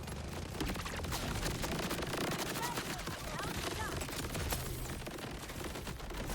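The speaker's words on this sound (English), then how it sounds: "hit him with your knife, and shoot him." Jacobs Kickballer gunfire in Borderlands 4 after a knife hit, rapid dense bursts of shots crackling continuously over a busy game soundscape, loud and close.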